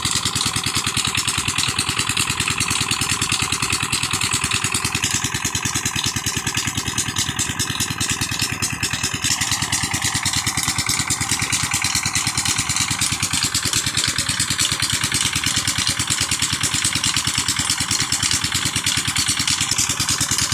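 A tube well pump engine in Sialkot, Pakistan runs with a loud, steady chugging drone that continues unbroken throughout, close by and without any talk.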